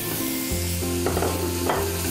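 Chopped onion and grated vegetables sizzle in hot oil in a tall pot over a flame, a steady close frying hiss with a few stirring scrapes, no talking.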